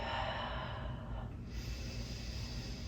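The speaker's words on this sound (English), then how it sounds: "breathing nice and deep" Slow, deep breathing through the nose held in a yoga pose, a close, steady airy inhale shifting into a long exhale, alone without speech.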